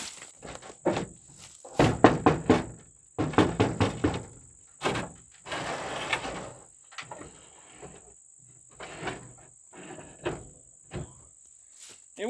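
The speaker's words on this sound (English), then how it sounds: "I was gonna roll the window down" Old window on a 1977 GMC Sierra Grande C25 truck door being cranked down with vice grips in place of a missing handle: a run of close, irregular clunks, ratchety scrapes and squeaks, some in quick bursts, with no talking.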